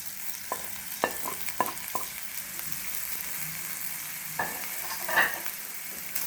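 Chopped capsicum sizzles steadily in a pan for white sauce pasta, with a spoon scraping and clinking against the pan in irregular strokes, close up and with no talking.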